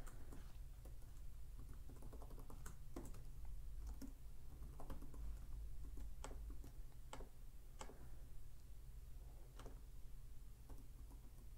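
Steady clicking of keys on a computer keyboard, quick irregular taps over a constant low hum, fairly quiet and close.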